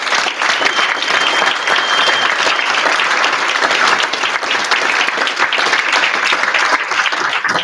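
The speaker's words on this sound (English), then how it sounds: "I'd like to just give one more round of applause to all our honorees tonight" Diners at a medal of honor symposium and dinner applaud the honorees, loud, continuous clapping from a large crowd that holds steady throughout.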